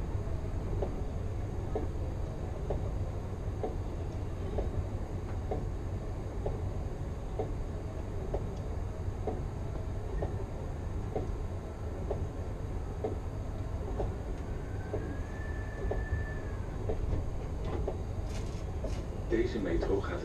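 An Amsterdam GVB metro train on line 53 rumbles steadily along the rails with regular clicks over the track joints, while a Dutch announcement voice speaks over the constant noise.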